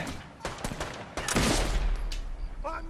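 Gunshots in Brothers in Arms 3 during a sniper mission, arriving as a few sharp close bursts with a dense volley in the middle, over quiet game ambience with brief sounds near the end.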